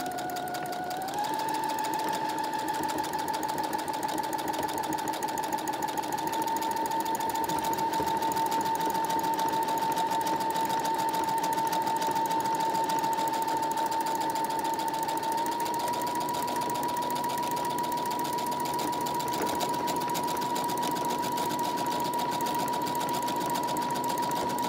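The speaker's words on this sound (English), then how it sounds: "just press your pedal and it'll make the buttonhole for you" A sewing machine runs steadily while stitching a buttonhole, giving a continuous close motor whine and rapid needle chatter that shifts slightly in pitch early on and holds for the full length, with no talking.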